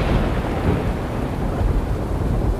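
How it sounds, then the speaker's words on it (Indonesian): Loud thunder rolling across the sky during a stormy night, a dense sustained rumble with rain-like hiss, powerful and continuous throughout with no voices. "petir menyabar keras di langit, menyilaukan mata dan mengguncang bumi"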